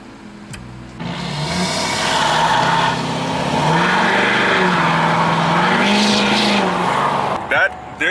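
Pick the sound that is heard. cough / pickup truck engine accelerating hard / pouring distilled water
pickup truck engine accelerating hard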